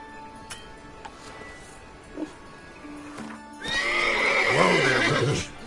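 Roach the horse in the video game Witcher 3 lets out a loud, close whinny near the end, with a few scattered hoof clops and soft ambient game sounds before it.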